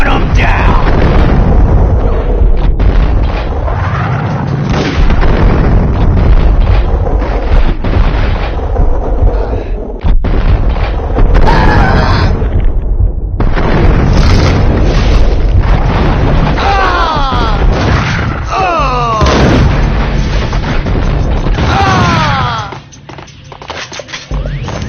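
Loud, dense gunfire and booming blasts from the Max Payne video game fill the whole stretch, with shots cracking in rapid bursts over heavy low rumble and game music, fading slightly near the end.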